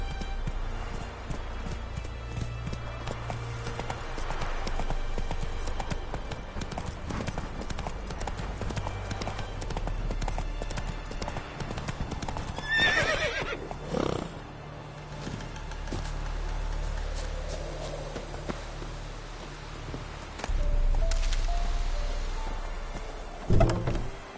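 Horse hooves clip-clopping steadily in a fantasy video game, with a brief whinny partway through, heard over constant game ambience and music.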